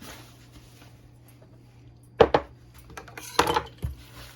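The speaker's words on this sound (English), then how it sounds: "I'm going to put my pan on, and I'm going to put some oil in" A cooking pan set down on a stove in a home kitchen: a quiet stretch, then a couple of sharp metallic clanks, followed by a few more clinks and knocks.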